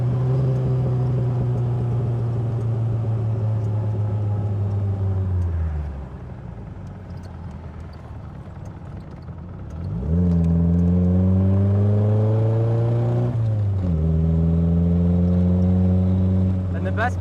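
A Triumph Spitfire sports car engine revs up hard, drops back to idle for a few seconds, then climbs again through two more loud, raspy pulls with a voice faintly underneath.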